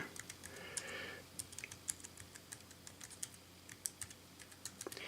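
Typing on the small keyboard of a GPD Pocket mini laptop, with quick, irregular clicks of the keys close by and no talk over them.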